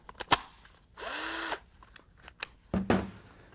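A cordless power drill whirs in a short burst of about half a second, flanked by clicks and clunks of handling a multi-tool power unit that swaps between drill, jigsaw and sander heads.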